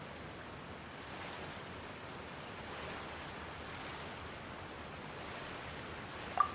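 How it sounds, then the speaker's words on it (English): Soft, steady rushing water from the Fountain of Lucine in Fontaine, in the video game Genshin Impact, runs as an even, faint wash throughout, with no voices. "All the water flowing through Fontaine converges here."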